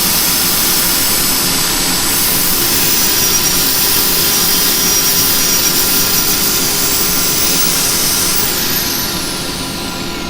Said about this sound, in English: I'm using this bit and I'm actually sanding with rotation, so I won't get the straight lines across it